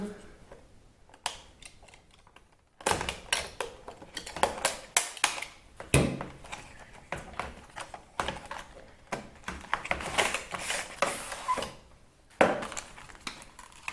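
Close scraping and cutting sounds with crinkling packaging and taps, uneven and busy, as a blade slices through seals on a keyboard box.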